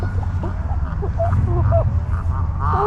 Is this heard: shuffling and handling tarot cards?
no